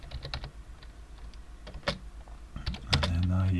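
Rapid clicks of a computer keyboard as Java code is typed in the Greenfoot editor, close and fairly quiet, with a low hum and a brief tonal sound near the end.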